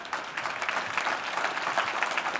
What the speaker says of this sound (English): If you've been a member for more than 20 years, stand and be recognized. Please clap.